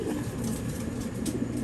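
A blue bar white-flight racing homing pigeon cockbird coos softly and steadily up close while being handled. Low, continuous murmuring under a room-tone hiss, with no speech.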